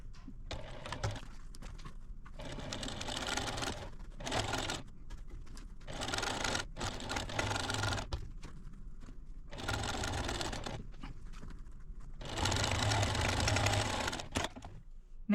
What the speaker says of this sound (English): So let's go sew this line.